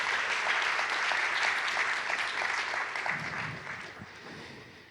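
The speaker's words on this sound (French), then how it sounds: "Est-ce qu'on peut applaudir l'équipe de louange quand même?" A church congregation applauds the worship team during a Sunday service. Brisk, crowded clapping starts strong, then gradually thins and fades over five seconds while a voice briefly emerges near the end.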